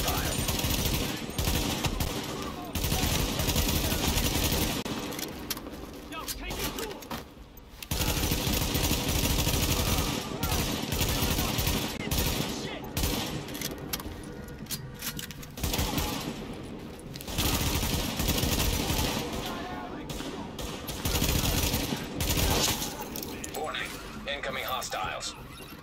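Automatic weapons fire rattles almost nonstop in the video game The Division: dense, loud bursts that pause only briefly, with voices talking over the shooting.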